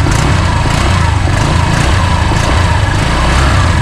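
A 2024 Honda Click 125 motor scooter engine runs steadily at idle beside a roadside, giving a constant, buzzy hum with a low throb and no breaks.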